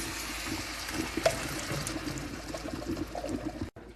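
Water pours into a cooking pot of sauteed black beans seasoned with adobo and sazon, a steady liquid splash running for several seconds at moderate volume before cutting off abruptly.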